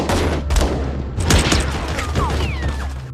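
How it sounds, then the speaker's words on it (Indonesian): Rapid gunfire from an action film scene in which henchmen shoot wildly, dense and continuous bursts over a low rumble, loud and close throughout. "Para anak buah pun mulai frustasi dan menembak secara membabi buta."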